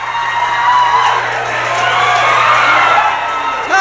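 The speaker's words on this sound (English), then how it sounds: "Listen to this crowd." A loud wrestling crowd at a 1980s Southwest Championship Wrestling match in Texas roars and cheers in a sustained, dense swell, with whoops and shouts rising from the mass of voices.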